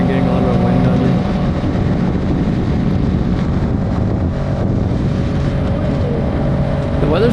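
A Kawasaki Ninja motorcycle is ridden along Ocean Drive, its engine drone running constantly under heavy wind buffeting on the microphone. The rider speaks over the steady, loud road noise.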